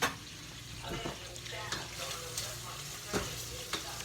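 Sausage sizzling and frying in leftover bacon oil in a pan for Zuppa Toscana, with a steady close crackle and occasional stirring scrapes throughout.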